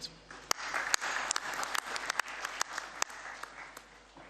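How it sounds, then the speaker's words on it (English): A small gathering at the CAF General Assembly claps for the Ethiopian Football Federation president, producing thin, scattered hand claps with a few sharp individual claps standing out over a quiet room. "We can clap hands for him."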